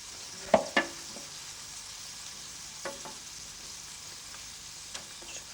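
Wild boar meat sizzling and frying in a pan during home game cooking, a steady soft crackle with a few sharp clinks and stirring knocks near the start, close and alone.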